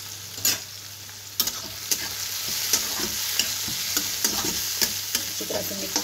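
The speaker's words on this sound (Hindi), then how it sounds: "हल्का प्याज और थोड़ा भूनने देंगे, थोड़ा और हल्का सा ब्राउन हो जाए अच्छी तरह से" Onions sizzle steadily while frying in a pan for baingan bharta, with a close continuous crackle and repeated sharp clinks of a spoon stirring.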